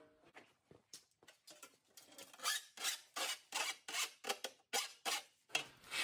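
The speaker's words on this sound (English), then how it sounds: "I'm gonna grab a file and I'm gonna clean that edge up." A metal file rasps along the cut edge of a wood stove in a shop, a series of about a dozen short, sharp scraping strokes in a steady back-and-forth rhythm, close and fairly quiet.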